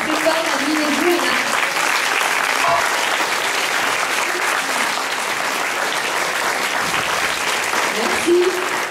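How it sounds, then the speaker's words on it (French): Loud, dense applause from an audience for a singer and a pianist at a young-talent show, sustained for several seconds, with voices and cheers mixed into the clapping. "On les applaudit encore plus fort, Nadine et Johanna."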